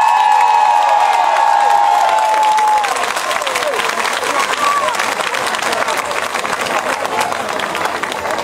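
Comedy show crowd in San Severo breaking into loud applause and cheering, a whistle cutting through at first, then dense sustained clapping filling the room close and strong.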